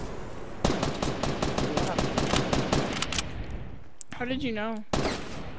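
Rapid automatic gunfire in Fortnite Battle Royale, a fast string of loud close shots lasting a few seconds, followed by someone talking.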